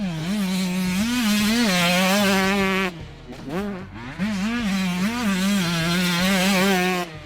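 A 125cc two-stroke motorcycle on a race lap buzzes loud and near, its engine note wavering up and down through gear changes with a brief dip mid-run before pulling hard again.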